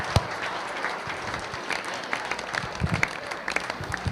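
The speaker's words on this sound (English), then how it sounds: "All right, round of applause for Patrick." Wedding guests give a round of applause after a speech, a dense, close wash of clapping from a crowd that holds steady, with a few murmured voices underneath.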